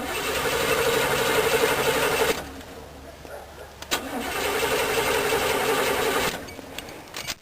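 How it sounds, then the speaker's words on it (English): A car engine fitted with a Rochester four-barrel carburetor cranks repeatedly without catching, in two long bursts of churning starter and engine noise separated by a short pause, recorded close up. "The engine will not start."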